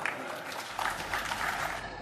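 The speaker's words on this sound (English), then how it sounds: "Resounding applause and the sounds of takbir for the words of Professor Ilan Pappe delivering a lecture" A mosque audience at Masjidul Quds applauding after a lecture by Professor Ilan Pappe, a dense, steady wash of clapping from a crowd that fills the room without pause.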